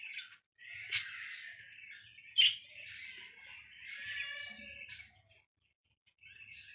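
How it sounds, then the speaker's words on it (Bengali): Indian lotan colour mundian pigeons kept for sale give scattered soft calls and chirps, faint and close in a quiet setting with brief gaps of silence. "দেখতেই পাচ্ছেন মাশাআল্লাহ কত সুন্দর সাইজ আরেক জোড়া কবুতর"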